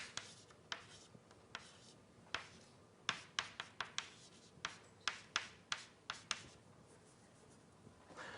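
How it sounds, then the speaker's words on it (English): Chalk or pen strokes and quick taps while an equation is written out during a relativistic quantum mechanics lecture: a series of crisp, close strikes and short scratches, irregular at first, then more rapid, with no talking. "let's write in this manner."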